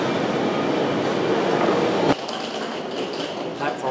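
A train rumbles and clatters at London Euston station, a loud rolling roar that abruptly drops at the midpoint to quieter rail noise and station ambience.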